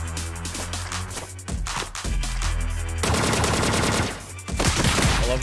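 Loud gunfire blasts in the gritty cyberpunk JRPG Jack Move, rapid bursts over a continuous game music background with no pauses.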